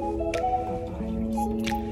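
Liquid drains out of an opened can of sweet corn in a home kitchen, giving wet squishing and dripping sounds over a steady tonal background hum.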